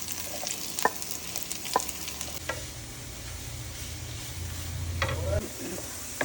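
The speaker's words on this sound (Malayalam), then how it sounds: "നമുക്ക് സവാള ഇതുമെല്ലാം വാട്ടാം" Onions, ginger and garlic sautéing in a pan for a prawn and long bean dish, a close steady sizzle with several crisp spoon scrapes and taps, plus a low rumble rising in the middle.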